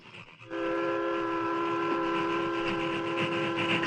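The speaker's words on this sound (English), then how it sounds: "Train nearly reached top of slope." Steam train for a radio drama climbing a slope toward the top of the grade, a loud, steady whistle blast with layered tones cutting in sharply and holding over the rumble of the engine.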